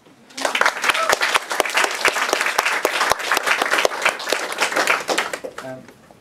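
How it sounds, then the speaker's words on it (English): Lively audience applause at a poetry reading, a dense, loud wash of clapping with sharp individual claps standing out, swelling quickly and tapering off near the end with a voice briefly audible. "Give him an applause."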